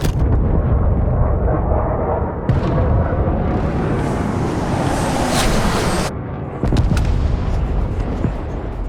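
Grenade blast in the video game Starfield, a loud rumbling explosion with heavy low-end roar and debris noise, followed by a second burst a few seconds later.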